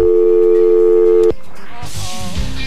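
A loud, steady telephone tone from a radio call-in line after the caller hangs up drones alone for over a second, then cuts off abruptly into faint background noise and murmuring.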